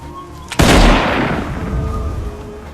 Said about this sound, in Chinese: 眼见目标快速逃进了丛林，领队的军官只好端枪开始射击